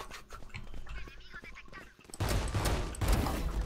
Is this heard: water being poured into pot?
no